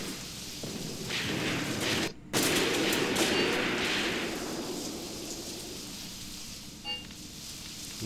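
Heavy rain pours down across a battlefield in the war game Graviteam Tactics: Mius Front, a loud, steady wash of hiss that cuts out briefly, then fades slightly, with a faint distant bang near the end.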